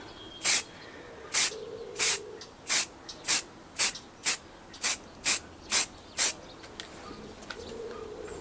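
Spray primer applied in light, dry coats to a 3D printed DeLorean part: about eleven short, sharp hissing bursts from an aerosol can in an even rhythm, close and loud, with brief quiet pauses between them.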